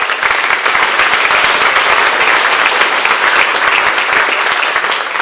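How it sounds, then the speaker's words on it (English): Dense, loud applause from a large crowd at an awards banquet, continuous and even throughout, with no talking. "So I want you to all give yourselves a big round of applause to start off."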